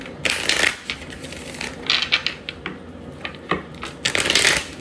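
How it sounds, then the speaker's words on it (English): Tarot cards being shuffled in several quick riffling bursts, with short pauses and soft taps between them, close and clear. "Give it a really good shuffle."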